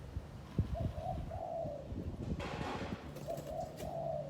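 A large dove, a trained decoy bird, coos repeatedly nearby in a steady series of low, rounded calls, alone with no talk.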